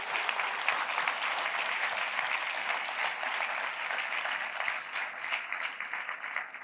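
A church congregation claps steadily for God during a sermon, with dense sustained applause filling the room at an even level throughout and no talking over it.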